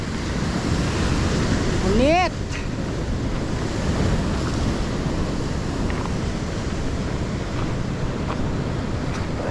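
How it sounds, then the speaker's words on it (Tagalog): Large ocean waves breaking near a fishing spot, a steady broadband roar of surf with wind buffeting the microphone throughout; a brief voice and a rising whistle-like tone appear near the start. "Laki ng alon."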